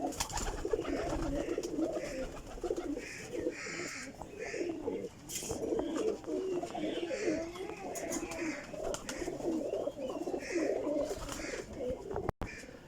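Teddy flying pigeons, a champion golden breed, coo steadily in a close loft chorus, overlapping low rolling calls running throughout with a brief sharp knock near the end.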